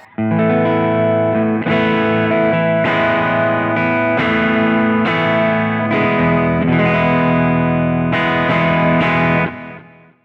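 Electric guitar through a Kemper amp profiler on a pushed clean channel, with slight breakup, plays a series of strummed chords, each attack ringing out, steady and loud with a touch of reverb.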